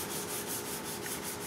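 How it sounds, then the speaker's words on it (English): Hand sanding a paint run with 400 grit sandpaper wrapped around a small piece of paint stick used as a tiny rigid block, a steady close rasping rub that runs throughout. "I've cut off a small piece of a paint stick and wrapped my 400 paper around it so I can use it as a very tiny rigid sanding block."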